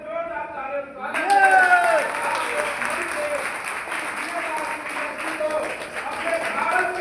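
Seminar audience bursts into loud, sustained applause after a brief tonal sound, clapping steadily throughout with a voice speaking faintly over it.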